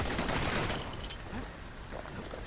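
Rapid gunfire from a weapon in the video game Bastion, dense bursts of shots over a busy game soundscape, with a voice faintly underneath.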